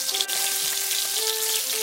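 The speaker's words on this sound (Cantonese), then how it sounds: "咁我哋呢一邊咧又煎佢2分鐘。" Salmon fillet pan-frying skin side in a wok, a steady close sizzle with crackling spatter throughout and faint tonal hum beneath, no talking.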